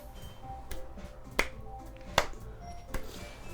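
A few sparse finger snaps serve as applause in a game, three or four crisp, isolated clicks spaced about a second apart over a quiet background.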